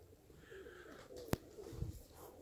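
Pigeons outdoors coo in a low, soft murmur, with one sharp brief sound cutting through partway and a slightly louder coo near the end; no one speaks.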